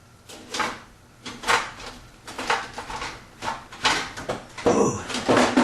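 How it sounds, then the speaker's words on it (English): A heavy, loaded oven drawer is shoved back into place in a series of sliding scrapes and knocks, with rattling contents and a final clunk. "Don't forget to put your drawer back in."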